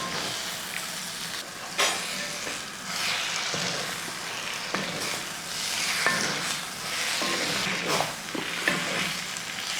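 Brinjal curry with mango pieces stirred in a hot pan, a continuous crackling sizzle broken by repeated spatula scrapes and clacks, fairly close and loud throughout.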